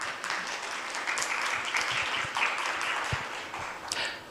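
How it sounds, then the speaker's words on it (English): An audience at a forum session on film and technology greets the moderator with a warm, steady round of applause, full and continuous with occasional louder individual claps. "So please welcome him with a big round of applause"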